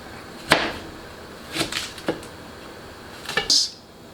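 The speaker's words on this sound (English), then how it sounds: "So just with the knife, in a V motion, just going to cut that out." A knife cutting the root core out of a halved red onion in a V shape: a few sharp, distinct knife taps and scrapes on a cutting board, spaced apart, fairly quiet.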